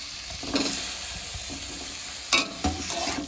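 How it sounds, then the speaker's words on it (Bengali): Boiled potatoes are stirred into a fried spice mixture in a pan, with steady sizzling underneath and a few sharper scraping clatters from the stirring, close up and without any talking. "আলুটাকে দিয়ে খুব ভালো করে আমি মিশিয়ে নেব।"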